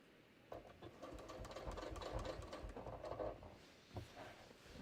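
A sewing machine top stitching a jeans inseam, with a rapid mechanical whirring that starts after a brief pause, runs steadily and close, then slows to a few stops near the end.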